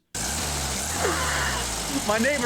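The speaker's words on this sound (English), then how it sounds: "This is my clothes dryer." A gas clothes dryer runs loudly in an apartment with a steady low droning hum and rumble that stays constant throughout, while a voice talks briefly near the end.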